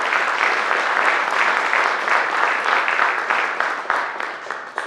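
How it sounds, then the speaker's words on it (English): An audience at a 2024 county Chamber of Commerce primary candidate forum gives a warm, sustained round of applause for the candidates, a dense close wash of clapping that slowly fades. "Let's give our candidates a round of applause"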